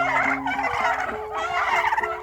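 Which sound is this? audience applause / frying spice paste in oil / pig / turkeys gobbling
turkeys gobbling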